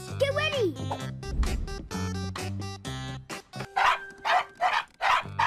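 Cartoon puppies bark and yip in quick, bright bursts, mixed with animated voices and music, the barks coming in a lively run near the end.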